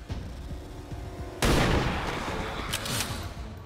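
A squad opens fire in XCOM 2: after a quiet stretch, a sudden loud burst of overlapping gunshots breaks out and the roar of fire continues to the end, with a few sharper cracks near the close.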